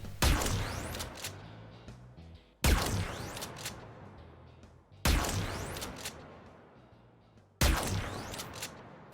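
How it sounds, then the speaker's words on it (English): Arca Plasmor plasma shotgun from Warframe firing four heavy blasts, each a sharp booming crack that trails off into a long decaying rumble, evenly spaced about two and a half seconds apart, loud and with no talk over them. "this firing sound effect"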